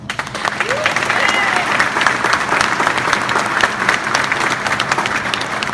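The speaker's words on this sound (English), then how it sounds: "Please join me in a round of applause for his effort thus far." A loud, full round of audience applause fills a POW/MIA chair ceremony, sustained and even from start to finish.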